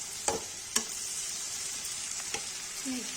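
A spatula stirs Kashmiri mixed vegetables with kasuri methi in a hot pan, with a few sharp scrapes against the metal over continuous sizzling frying.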